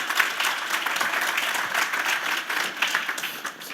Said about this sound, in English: a quick round of applause for everyone on the panel